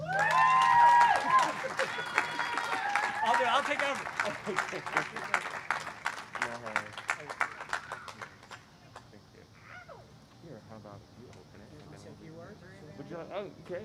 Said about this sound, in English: give these 2 men an incredible round of applause